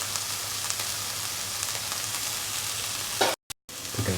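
Black-eyed beans and capsicum masala with green chilli, tomatoes and spices are mixed in a hot pan, giving a steady close sizzle with soft scraping that cuts out briefly near the end.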